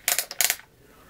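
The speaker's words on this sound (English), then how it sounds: "if you hold this gas igniter, you know, in the vicinity of the L1 coil, and click it" A handheld piezo gas igniter clicked near the L1 coil of a ferrite slayer exciter circuit, a quick cluster of sharp, bright snapping ticks lasting about half a second, close and alone.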